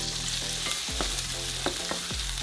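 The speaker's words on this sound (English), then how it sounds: "So cook the onion for a couple minutes." Chopped onion frying in melted butter in a pan, a loud continuous sizzle with a few stirring scrapes cutting through it.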